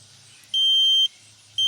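A brake fluid tester gives two sharp, high electronic beeps, each about half a second long, separated by a short pause, while testing a Kia Soul's five-year-old brake fluid.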